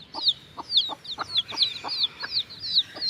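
Hen with her chicks clucking close by, a steady run of low clucks mixed with high, rapid peeping chirps that repeat roughly every half second, with no talking.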